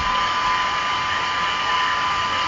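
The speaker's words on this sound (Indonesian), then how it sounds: "Perhatikan juga daun kipas." Car radiator cooling fan spinning steadily, a continuous loud airy whir with an even tone and no variation, no voices.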